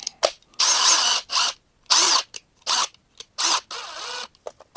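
A DeWalt cordless screwdriver whirs in a string of short bursts, each around half a second long, with quiet gaps between trigger pulls, close and loud.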